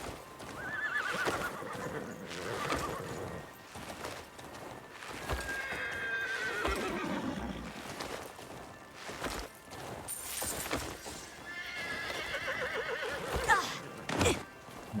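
Video game horse neighing and whinnying repeatedly over steady clip-clop hoofbeats, with occasional thuds; loud and close, continuous throughout.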